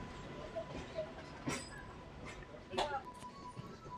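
A Kacheguda–Nadikudi DEMU train runs along single track, giving a steady rolling rumble broken by a few sharp clunks of the wheels.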